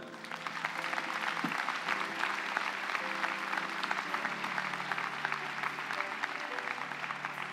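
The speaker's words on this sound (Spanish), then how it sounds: "Denle un aplauso a Él." Sustained applause from a church congregation fills the space steadily from start to finish, dense and even with no break, with faint low murmur beneath.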